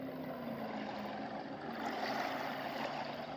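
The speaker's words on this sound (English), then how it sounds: "Like just listen to the water." Gentle, steady water washing and sloshing near a boat, a low continuous murmur with no voices.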